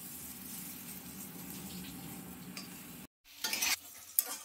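Taro leaves fry in a pan with bay leaf and dried chili, a steady close sizzle with stirring scrapes, then a short gap and a few louder clattering stirs.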